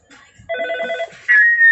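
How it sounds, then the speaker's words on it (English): An Avaya BCM 50 business phone extension rings in a short electronic warbling burst of repeated trills, close and clear, followed by a brighter sustained electronic tone. "It is ringing."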